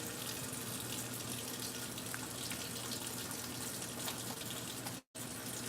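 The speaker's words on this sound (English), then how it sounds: "I gotta wash my hands." Water runs steadily from a tap into a sink during handwashing, a continuous broadband rush that fills the whole clip with no talk, broken only by a brief dropout near the end.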